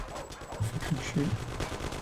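Steady machine-gun style fire in the video game Mafia 1, quick repeated shots in an even rhythm, loud and close, with a voice briefly audible underneath.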